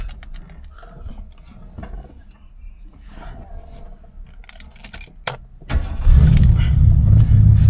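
Keys jangle and clatter near a 1977 Lincoln Continental, then its engine catches and settles into a loud, steady low rumble over the last two seconds.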